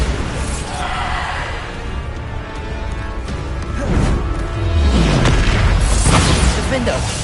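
The Bombarda spell fires in the Hogwarts Legacy video game, producing deep booming explosions and crashing combat effects that swell louder toward the end. Voices shout over the blasts.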